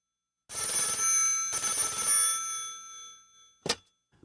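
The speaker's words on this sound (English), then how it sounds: "There's a phone call" An old-fashioned telephone bell rings in two long bursts, with a short distant knock near the end, set in an office in Auckland in 1935; no talk.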